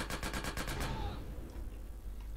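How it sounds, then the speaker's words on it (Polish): Gunfire in GTA San Andreas: a rapid burst of about seven automatic shots in the first second, loud and close, then fading into a low ambient rumble. "Nie, tam strzela ktoś."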